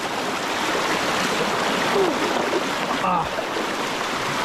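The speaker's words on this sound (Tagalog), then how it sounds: "Uy, malakas ang agos." A strong current in a rocky stream at an outdoor tourist spot rushes loudly and constantly, close by. A brief voice exclaims once partway through.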